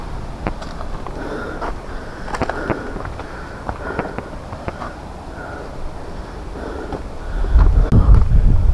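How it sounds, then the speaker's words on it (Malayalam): Wind gusts over a large hilltop rock, buffeting the microphone with a steady rushing roar, broken by scattered knocks and thumps, and swelling into a heavier low gust near the end. "നല്ല കാറ്റ്."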